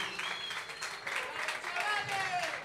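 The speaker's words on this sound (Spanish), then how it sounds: "Gracias por aplaudir a todo el público que aquí ha llegado." Crowd applause at an underground Spanish-language rap battle, with scattered clapping and crowd noise heard at a moderate distance beneath overlapping voices and a few thin whistle-like tones.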